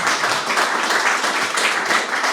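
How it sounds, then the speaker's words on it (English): An audience at a Labour Party panel event on electoral reform claps in a steady, dense round of applause that holds at an even level without pause. "Round of applause."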